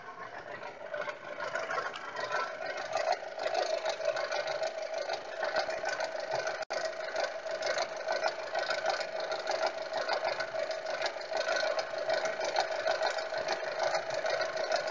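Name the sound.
car engine idling with rattle, suspected catalytic converter or turbo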